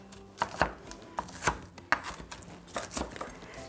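Cooked bacon being chopped into small pieces with a knife on a cutting board, a series of about a dozen uneven, crisp knocks close by over quiet background, no talking.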